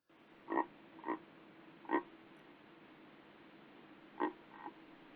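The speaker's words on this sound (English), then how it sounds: "It's not a tiny frog." A large frog croaks five times in a gravelly, reverberant voice, with short irregular calls spread over a faint steady background hiss.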